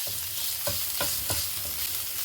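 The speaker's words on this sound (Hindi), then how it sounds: "सभी चीज़ों को 1 मिनट के लिए हम अच्छे से फ्राई करेंगे" Onions with ginger-garlic paste fry and are stirred in a pan for a paneer kulcha recipe, a constant bright sizzle with four or five rhythmic scraping stirs at close range and no voices.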